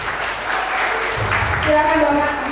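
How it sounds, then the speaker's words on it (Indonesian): An audience at a campus student orientation event claps steadily for a couple of seconds, a crowd of hands pattering together close by. "Tepuk tangan dulu dong."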